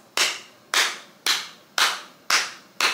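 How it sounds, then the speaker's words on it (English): Six sharp, evenly spaced hand claps, about two a second, loud and close like one person applauding, with no voices. "round of applause for them"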